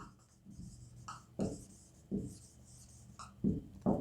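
Someone writing by hand while working through an arithmetic progression maths lesson: soft scratching pen or marker strokes in short bursts with sharper taps between them, close and fairly quiet, with no talking.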